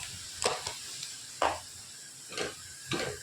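Cumin seeds and chili sizzle in a hot pan of oil while a spoon stirs them in a few separate scraping bursts, close and fairly quiet.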